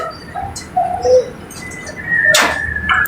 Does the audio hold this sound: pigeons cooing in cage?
yes